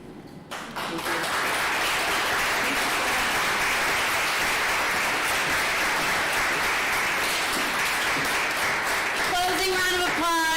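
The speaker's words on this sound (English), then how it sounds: "Closing round of applause for Hila and Faylita." An audience at a poetry reading event breaks into a sustained round of applause that builds quickly and holds steady, dense clapping before a voice begins speaking near the end.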